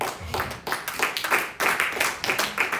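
A church congregation claps in applause during a sermon, the bursts of hand claps loud and close, rising and falling in quick uneven waves.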